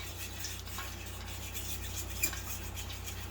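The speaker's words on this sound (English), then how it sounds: "always stirring the bottom to make sure we're not sticking" A spoon scraping along the bottom of a pan of thickening country gravy for fried pork chops, producing a constant low rasp and bubbling with faint clinks, no talking.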